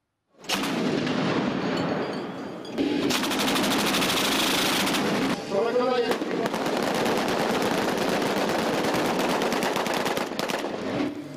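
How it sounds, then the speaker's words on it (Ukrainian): Heavy artillery volleys fired at a paratroopers' day demonstration in Ukraine, a dense, continuous roar of booming blasts and rattling fire that carries on for the whole stretch with only brief dips. "Залпи важкої артилерії"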